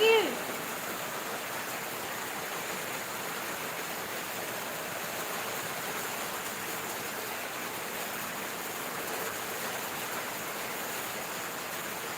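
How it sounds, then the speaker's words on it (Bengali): Rain falling outdoors makes a steady, even hiss that holds at one level throughout, a continuous close wash of sound with no clear voices over it. "এখানে বৃষ্টি হচ্ছে"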